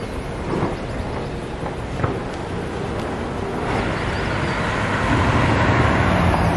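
A bus pulls up to a stop on a road bound for Yuba City, its engine rumble building steadily and loudly under steady traffic noise.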